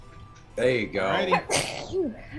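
A single sneeze bursts out loudly and close, surrounded by casual speech at a tabletop role-playing game session.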